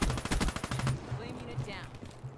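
Rapid automatic gunfire from hip-firing in Black Ops 3 on PC, a loud burst of closely spaced shots lasting about a second, then fading game noise with a few scattered effects.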